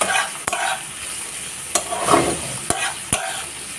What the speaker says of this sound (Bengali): পেঁয়াজ রসুন দিয়েছি, এবার এগুলো হালকা ফ্রাই করে নিতে হবে।